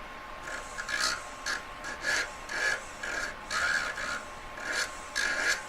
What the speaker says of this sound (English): Rubber wheeling the solder line away, gets it really sharp